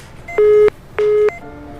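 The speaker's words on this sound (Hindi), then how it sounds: "फोन काट दिया" A phone call disconnecting, marked by two loud, steady electronic beeps in quick succession, each lasting about a third of a second, followed by a fainter lingering tone.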